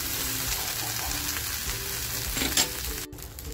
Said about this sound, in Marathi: बघा मित्रांनो मंद आचेवर खमंग परतवून घेतलेले आहेत.